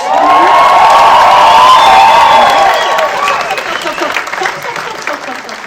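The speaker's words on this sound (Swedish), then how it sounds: "En stor applåd för vår nytända stjärna Trick Kitsy, Always in Disguise, och hans primadonna Nikki Kits" A theatre audience at Maximteatern bursts into loud applause with cheering and a few high shouts, a thick roar of clapping that gradually thins and softens toward the end.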